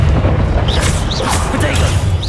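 A Diffindo spell is cast in the video game Hogwarts Legacy, a loud booming magical burst with whooshing swirls heard close and under a voice speaking over the game.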